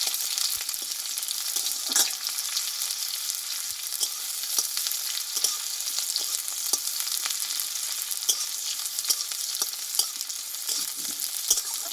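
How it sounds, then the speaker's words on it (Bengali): Chopped onion and slit green chillies sizzle steadily in hot oil, a dense, even frying hiss throughout with faint scattered clicks of stirring, close and without voices. "এই পেঁয়াজটা আমি ভালোভাবে ভেজে নেবো"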